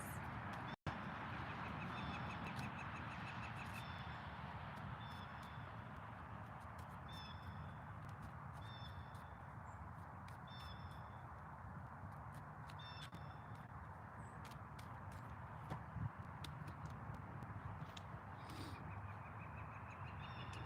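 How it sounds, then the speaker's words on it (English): Birds chirping and calling outdoors, repeated short high calls scattered throughout over a steady broad background hum, fairly faint and continuous. "Doesn't it sound so cool, the birds?"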